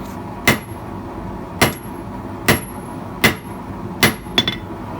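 Sharp metallic hammer blows on the corner of a steel taper punch turned on the diagonal, six loud ringing strikes spaced about a second apart with a quick double hit at the end, no talking.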